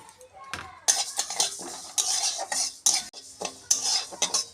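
Moong dal dry-roasts in an oil-free wok, stirred with a metal spatula; close, repeated scraping and rattling strokes come in bursts, with grains skittering against the metal.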